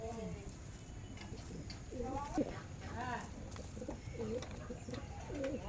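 A pair of hobby pigeons coo in repeated soft, rolling phrases at close range, a few seconds apart, over faint background noise and murmuring.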